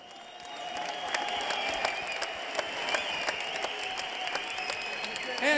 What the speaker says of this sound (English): So Pierre, give him a big applause.